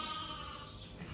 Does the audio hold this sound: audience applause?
no